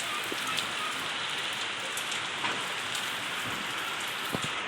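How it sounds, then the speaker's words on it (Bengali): Steady, heavy rain pouring down in a dense continuous wash, with scattered drips standing out nearby. "আমাদের এখানে ঝমঝমি বৃষ্টি শুরু হয়েছে, ঝমঝমিয়ে বৃষ্টি"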